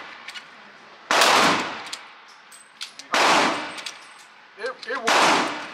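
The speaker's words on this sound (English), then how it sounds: "I think next I'ma shoot with my right hand, just to see." A Glock 30S pistol fired on a range, three loud sharp reports spaced about two seconds apart, each with a short ringing tail, heard close up with faint clinks between shots.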